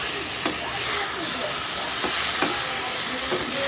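Tomato cooking in a hot pan makes a continuous hissing sizzle, broken by a few sharp taps of a utensil against the pan.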